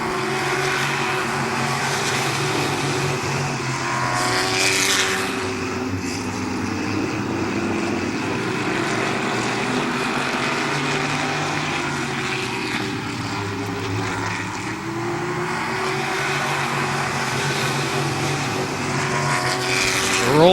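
Race cars competing at Midvale Speedway on June 22, 2013, their engines a loud, sustained roar that swells and fades slightly as the cars circle the track, with no talking.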